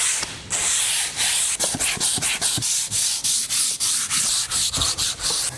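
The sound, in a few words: sanding painted camper van panels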